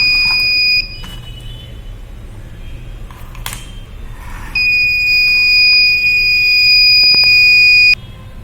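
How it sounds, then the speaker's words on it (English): A shrill buzzer on an ESP32 health monitoring device sounds in two long steady tones separated by a pause, with faint clicks and handling noise between them. "buzzer is alerting"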